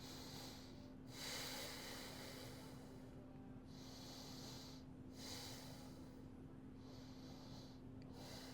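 Slow deep breaths taken on hands and knees during a quadruped exercise, four or five long airy inhale and exhale cycles, faint and close against a steady low hum.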